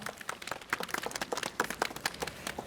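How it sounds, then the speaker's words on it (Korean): Applause from a modest crowd at an outdoor Labor Party press conference announcing a Gangbuk district mayoral candidate, with brisk, uneven clapping at moderate distance, fairly light and scattered. "박수 부탁드리겠습니다"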